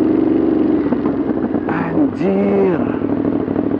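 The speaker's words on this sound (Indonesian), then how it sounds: "ini knalpotnya suaranya gahar begini" Throaty exhaust of a 2022 Ducati Monster motorcycle rumbling close up, with a brief rev that climbs and settles near the end, while someone speaks briefly over it.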